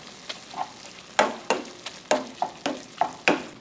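Minced garlic and meat stirred in a pan over medium heat, a spatula scraping in about nine sharp, evenly spaced strokes over a steady close sizzle.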